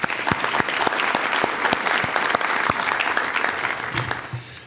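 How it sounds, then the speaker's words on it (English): An audience at a city event claps for the moderator, dense steady applause from a room full of people that fades near the end. "round of applause for our moderator"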